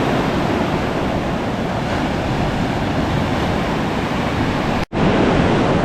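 Ocean waves break on a beach on a fairly calm morning, making a continuous loud roar of surf and wind that briefly cuts out near the end.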